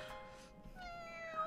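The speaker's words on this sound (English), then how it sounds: "Meow." A cat meows, a short feline call with rising tonal harmonics heard close against a steady background hum.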